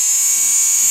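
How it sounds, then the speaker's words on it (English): A small electric die grinder with a little grinding bit gently cleans the dirty contacts inside a Harley-Davidson starter motor, giving a steady, high-pitched whine that holds evenly and loud through the brief moment with no talk. "I'm just going to use a regular, like a little electric die grinder with a small grinder on the end."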